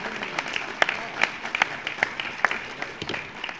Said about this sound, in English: everybody in this room needs to be applauded for being here